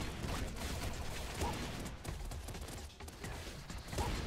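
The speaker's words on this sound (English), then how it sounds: "There's just walls of bullets coming from every direction at me" Dense, continuous gunfire and bullet sounds from the video game Nuclear Throne, rapid overlapping shots and impacts forming a constant loud barrage with no talk.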